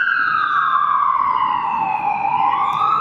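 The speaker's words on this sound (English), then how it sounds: "why else would there be like that many ambulances and fire trucks? It's so loud." Wailing sirens of ambulances and fire trucks heading toward Yaletown, a strong sweeping tone that slowly dips and rises as the vehicles pass, loud and continuous.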